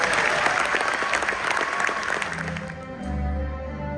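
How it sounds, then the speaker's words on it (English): A crowd applauds youth program cadets at a graduation ceremony at Fort Eisenhower, a dense sustained round of clapping that thins out near the end as low voices and room noise come through. "Please give them another round of applause."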